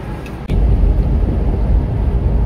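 A car driving along a road, its engine and tire rumble a steady, close, low drone throughout with one brief bump near the start.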